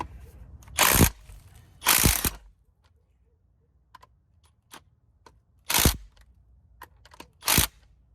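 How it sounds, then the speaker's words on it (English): Ratcheting wrench bursts while loosening the suspension adjustment on a lifted Honda Accord: two long clicking runs, a pause with faint scattered ticks, then two more ratchet bursts, close and fairly loud with no talk. "So I'm gonna loosen that up a little bit so I get a little bit more suspension travel instead of less."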